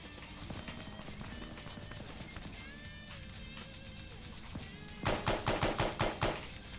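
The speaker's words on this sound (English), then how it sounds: "I have heard gunfire coming from there" Gunfire from the video game ARMA 3 cracks in a quick burst of about seven sharp shots near the end, over a faint background of distant shots and ambient game sound.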